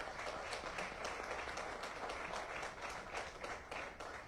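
A panel audience gives a steady round of applause for Jorge Priego Martínez, the soft clapping evenly spread and fairly distant, with no voices over it.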